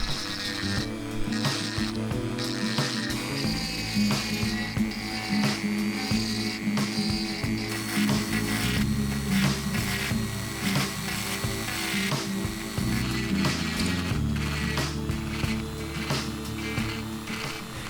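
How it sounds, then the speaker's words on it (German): A Dremel rotary tool whines steadily through fine shaping work on a joystick mount, its buzzing pitch shifting as it bites into the material, continuous and close with no talk. "dann mit dem Dremel die Feinarbeit gemacht"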